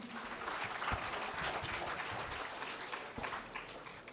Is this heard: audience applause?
yes